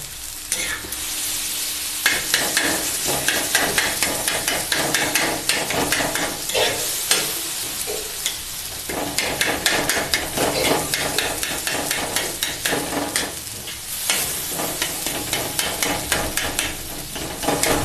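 Tomatoes and chickpeas fry in a pan, a steady broadband sizzle running throughout with frequent clinks and scrapes from stirring, loud and close, with no voices.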